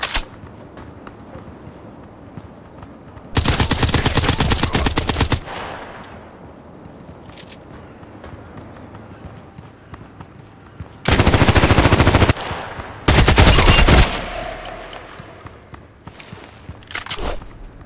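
Automatic AK-12 assault rifle fire in the Contract Wars shooter game, with three loud sustained bursts of rapid shots separated by quieter stretches of game ambience and a faint steady insect-like tone.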